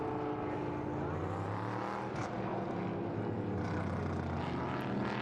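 Prototype race cars at the Nürburgring, Prototype Cup Germany 2022, filtering toward the starting grid before the race, a loud, steady engine drone that holds without a break for the whole stretch, with no talk.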